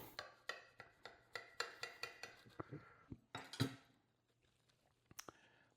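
A knife cutting through an egg salad sandwich on a plate, heard as a quick series of crisp clicks and taps that are close and fairly quiet, then a few scattered knocks and scrapes.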